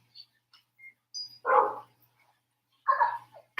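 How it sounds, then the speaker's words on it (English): A pet dog in a home barks in two distinct bursts about a second and a half apart, fairly close and clear, with faint yips and small noises in the quiet between them. "And y'all hear my dog."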